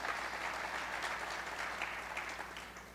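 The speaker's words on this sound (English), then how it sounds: "I remember that applause is for you too" Applause from a community arts celebration audience fills the room, a dense, moderately distant clapping that continues evenly and begins to thin out toward the close.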